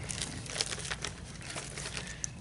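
A vacuum-sealed plastic bag coated in cosmoline crinkling and rustling continuously at close range, with a few sharper crackles as it is handled and opened.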